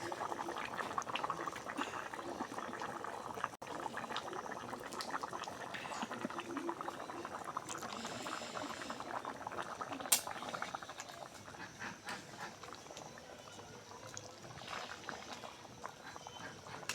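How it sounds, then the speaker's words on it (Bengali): A pot of ridge gourd and egg curry bubbles quietly at a rolling boil, a soft, continuous gurgle of liquid with a sharp clink partway through. "ঢাকনাটা খুলে দেখি, বলকটা উঠে গেছে, কত সুন্দর বলক উঠে গেছে।"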